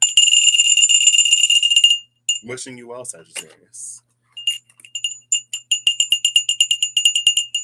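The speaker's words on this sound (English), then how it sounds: "The bell says ring the bell and wish them well." A small bell rings in bright, clear tones at the start, then someone speaks briefly before a run of quick, evenly spaced tinkling strikes fills the end.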